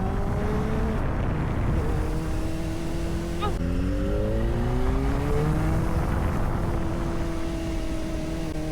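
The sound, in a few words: Kawasaki ZX-4RR motorcycle riding through the city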